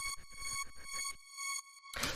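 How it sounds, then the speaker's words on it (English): A looped string sample in a classic Detroit house production plays short rhythmic stabs over sustained tones, ending in a brighter swell, with no talking. "So then the last thing I've got here is the string sample"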